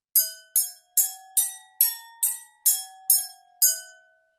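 Water-filled glasses at different levels are struck one after another with a chopstick, nine bright, ringing chimes at a steady pace, each tone ringing on briefly, the pitches shifting slightly from glass to glass.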